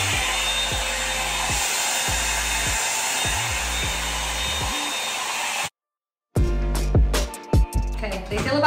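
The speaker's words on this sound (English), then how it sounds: "Let's try the cool setting now on 1 minute." A Revlon brush dryer blows on its cool setting with a steady, close, airy whir. It cuts out for under a second near the end, then starts again under faint background sound.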